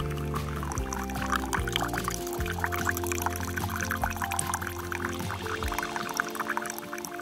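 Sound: liquid pouring

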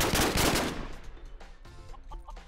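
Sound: grenade launcher firing in a video game

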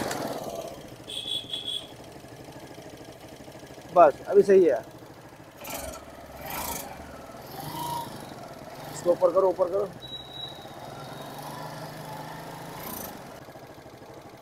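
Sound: TVS Star City motorcycle engine idling after RPM tuning

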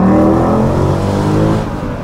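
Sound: Mercedes C63 AMG engine accelerating

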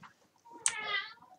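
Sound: cat meowing

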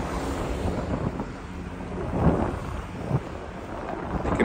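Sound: wind blowing on a beach

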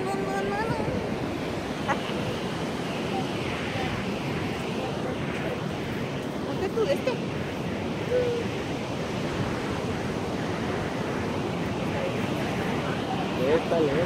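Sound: ocean waves surf

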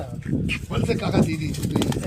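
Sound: Punjabi pigeons cooing

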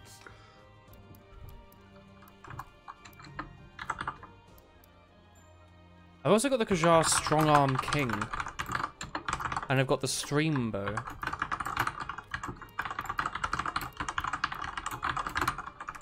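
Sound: computer keyboard typing

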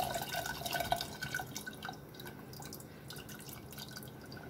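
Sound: tamarind juice being poured into dal

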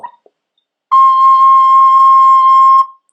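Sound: recorder flute being blown

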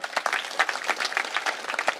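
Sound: audience applauding at a speech

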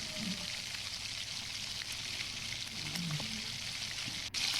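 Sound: parshe fish frying in oil, pieces turned over

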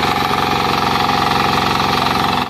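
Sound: 8 HP diesel engine power tiller running

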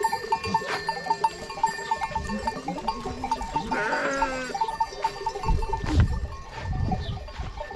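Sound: sheep and ram bleating on a highland pasture

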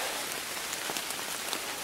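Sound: heavy rain coming down

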